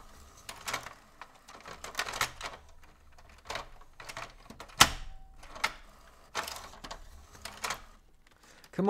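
A paper-feeding printer trying to print, giving off irregular mechanical clicks, clacks and short whirring bursts, with one sharp snap midway. The sounds are close and fairly quiet, with no voices.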